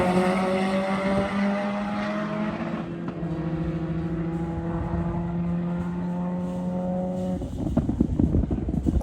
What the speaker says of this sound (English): the car sort of weren't getting off the line properly. It was just spinning up